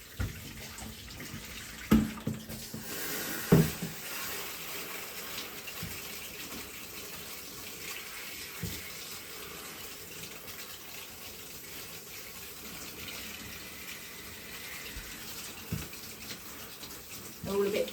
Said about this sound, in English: for now I am just going to give the plants a quick shower over